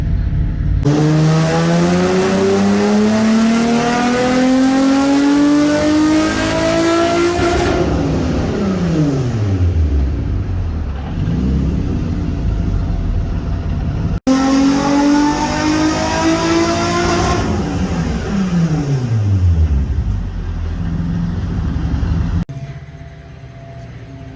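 Stock-intake Nissan 350Z with a VQ35DE engine and aftermarket cams, revving hard on a dyno: two loud sustained pulls climbing steadily in pitch, each followed by a falling deceleration as the revs drop, with no talk.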